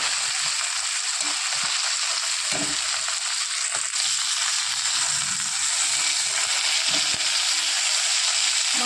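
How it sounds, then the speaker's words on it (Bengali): Bata fish frying in hot oil in a pan, a steady loud sizzle and crackle with occasional spits and pops, close and continuous with no talk. "ওই তেলেই বাদ বাকি মাছগুলো আবার ভেজে নেব।"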